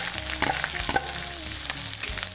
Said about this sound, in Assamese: পিঁয়াজখিনি অকণমান ভাজি লওঁ